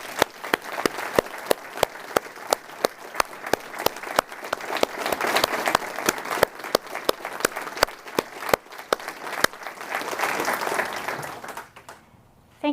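Applause rises from the audience at a Homeland Security Secretary's awards ceremony in San Antonio as recipients are honoured, a sustained wash of claps with distinct close hand strikes, fading out near the end.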